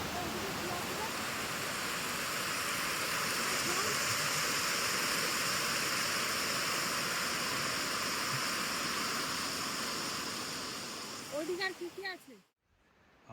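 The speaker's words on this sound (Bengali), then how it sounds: "ওই যে পাহাড়ের গা বেয়ে জল আসছে" Hudhud waterfall at Dhangikusum in Belpahari, water streaming down a rocky hillside, gives a steady, loud broadband rush that holds for about eleven seconds, then briefly breaks into scattered splashy sounds before falling nearly silent.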